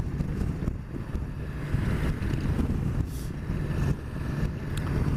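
Steady wind buffeting the microphone on a BMW S1000XR motorcycle ride, with low rumbling gusts throughout, loud and continuous, with no voices.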